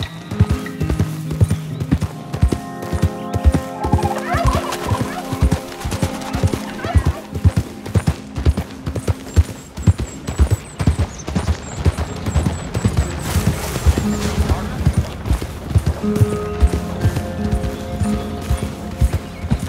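Steady clip-clop of video game horse hooves trotting close by, with an occasional whinny and background music; no talking.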